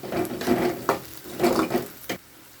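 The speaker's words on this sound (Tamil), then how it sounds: "3 வெங்காயம், பச்சை மிளகாவை போடுறோம்" Sliced onions and green chillies with fenugreek seeds frying in a pan for fish curry, giving a crackling sizzle with a few stirring scrapes and utensil knocks, close by and moderately loud.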